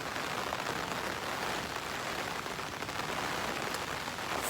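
Steady rain falls on an allotment, a dense, even hiss of drops hitting the ground and plants close by that carries on unbroken throughout, with no voices.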